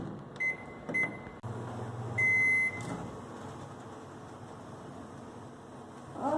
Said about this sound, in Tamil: இதை ஒரு 2 நிமிஷத்துலேருந்து 3 நிமிஷம் வரைக்கும் நான் வைக்கிறேன் மைக்ரோவேவ்ல.